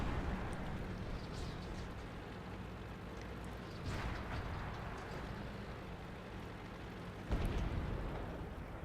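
A Super Pershing tank in World of Tanks fires its cannon twice, each shot a heavy booming blast several seconds apart, over a constant low rumble of engine and battlefield noise.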